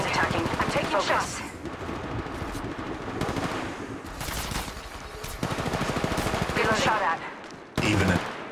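Game gunfire in Apex Legends Mobile: rapid, dense shooting goes on almost throughout, with bursts and sharper shots over a busy mix and occasional voice lines.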